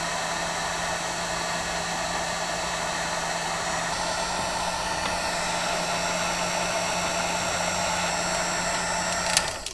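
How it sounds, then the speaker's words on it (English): A heat gun shrinking heat-shrink wire connectors during boat wiring work blows a loud, steady whooshing roar with a constant motor hum, running unbroken for the whole stretch before a faint click near the end, with no talking. "So I'm just using a simple heat gun here."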